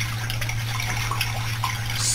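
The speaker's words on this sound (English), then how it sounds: "We've got it pumping some temp water out right now." A bilge pump pushes water out of a boat locker, giving a steady gushing, splashing stream over a constant low motor hum, close and continuous throughout.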